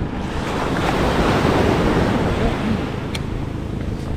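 Ocean waves surge onto the shore in a broad rushing wash, near and fairly loud, swelling in the middle and easing off, with wind buffeting the microphone.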